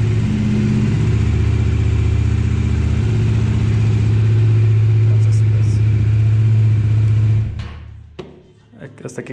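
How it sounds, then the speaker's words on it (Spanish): A motorcycle engine, started first try after a fuel filter change, idles steadily and close by with a low throbbing rumble, then cuts off near the end, leaving a few faint clicks. "a la primera prendió la motocicleta."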